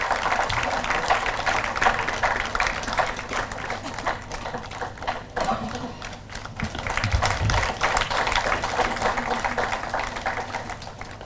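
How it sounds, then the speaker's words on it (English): A conference audience at Jain University claps for speaker Mohammad Naseem at a plenary session, producing uneven, moderately loud applause with scattered sharper claps and a brief dip midway. "Please give a big round of applause to Mohammad Naseem."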